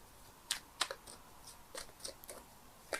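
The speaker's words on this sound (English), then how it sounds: "I'm shuffling the cards here" Tarot cards being shuffled, a series of faint, sharp papery clicks and snaps at irregular intervals against a quiet room background.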